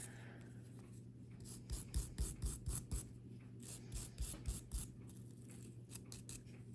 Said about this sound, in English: get after that with the wire brush just to get the little grooves clean so it ratchets correctly.